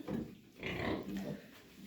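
Young castrated piglets grunt and snuffle in a pen, a few soft low grunts close by and fairly faint, with a little background noise.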